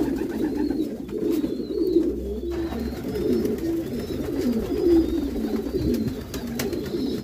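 Pigeons kept for meat in a loft coo steadily, a layered chorus of low rolling, throaty calls from several birds close by, with no talk over them.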